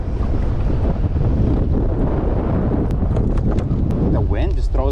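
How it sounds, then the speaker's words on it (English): Strong wind buffets the microphone while kayaking in shallow water, a loud continuous roar with low rumble throughout, a voice briefly heard near the end. "The wind just throws my stuff all over the place."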